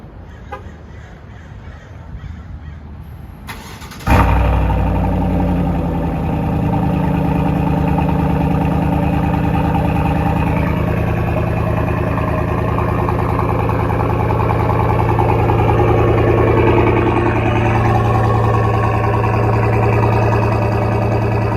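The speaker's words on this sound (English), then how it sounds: "I will do a cold start right now" A 2020 Chevrolet Silverado LT Trail Boss pickup with a full catless exhaust cranks and fires up abruptly on a near-cold start, then settles into a steady, loud rumbling idle that continues for the rest of the recording.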